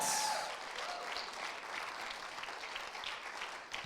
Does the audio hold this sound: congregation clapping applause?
yes